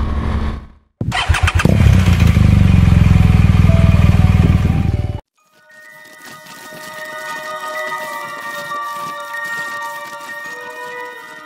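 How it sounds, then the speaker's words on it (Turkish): A 2017 BMW R1200GS motorcycle engine starts with a brief crank, then runs loud and close for about four seconds before cutting off, followed by quieter ongoing road and wind noise as the bike moves. "Motosikletim 2017 model R1200GS"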